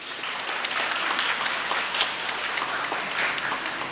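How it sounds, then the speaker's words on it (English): Audience applause for preschool graduates at a UKG graduation ceremony and annual day programme, a dense continuous wash of many hands clapping at steady loudness throughout. "Can we have a huge round of applause for our graduates?"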